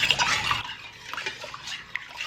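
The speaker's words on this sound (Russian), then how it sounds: "Все хорошо перемешиваем." A spoon stirs salt, 9% vinegar and sugar into a brine in a pot for canning tomatoes, giving a few scraping clinks and liquid swishes that grow fainter and sparser after the first half second.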